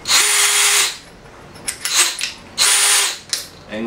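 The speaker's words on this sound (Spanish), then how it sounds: "comprar una broca Fosner para poder así uno mismo hacer la perforación" A power drill with a Forstner bit whines in two long bursts with a short, rattly grinding stretch between them as the bit bores through wood, close and loud.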